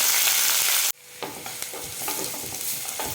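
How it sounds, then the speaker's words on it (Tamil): Onions and garlic sauté in a frying pan for a Tamil curry, starting with a loud hiss that cuts off abruptly, then a softer steady sizzle with scraping stirs of a spatula. "சேர்த்துட்டு வெங்காயத்தை நல்லா வதக்கலாம்."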